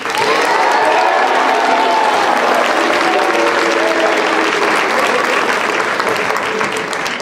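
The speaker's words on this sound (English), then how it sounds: "let's all give a big round of applause to our 2026 GOB champion" An audience applauds loudly and steadily for a newly named 2026 GOB champion at a school assembly, a dense wash of clapping with faint voices and cheers mixed in.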